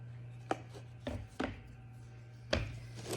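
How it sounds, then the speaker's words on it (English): A knife slices lines into material for making mosaic tiles. Four short, separate cuts come at uneven intervals, quiet and close over a low background hum. "keep your knife clean and just slice"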